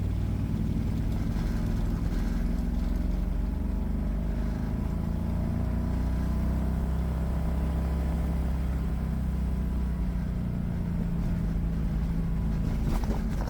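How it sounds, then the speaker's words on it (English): A Renault R10 fitted with a 670cc Predator engine and dual carburetors pulls away from a standstill in fourth gear, a low steady engine drone rising gently under light throttle, close and continuous with no talk. "The engine pulls really nice in fourth from a standing stop."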